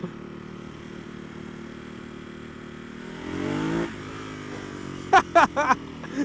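A Ducati Hypermotard 939 supermoto on the road gives a short rev rise, then a quick cluster of sharp exhaust pops and crackles over steady engine and wind noise.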